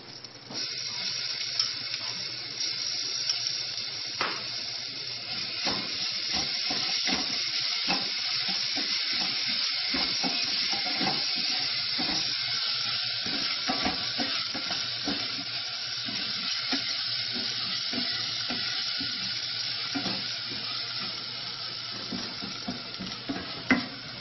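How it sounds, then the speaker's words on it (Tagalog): Spice paste for beef rendang sizzles and fries steadily in a pan, with frequent scraping stirs and clinks of a utensil throughout, loud and close with no talking. "you can now put in the paste that you made earlier"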